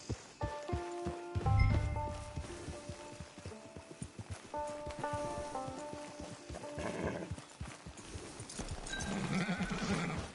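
Horse hooves clip-clop at a walk in the Red Dead Redemption video game, a steady moderate rhythm over game music and ambience, with brief snorts or whinnies mixed in.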